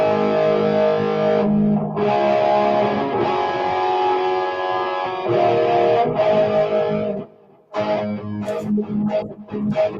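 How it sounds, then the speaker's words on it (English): Heavily distorted electric guitar played through a Marshall JCM 900 50-watt high gain dual reverb amplifier, loud sustained chords and riffs with brief pauses and a short gap near the end. "William, it's a JCM 900 50-watt high gain dual reverb"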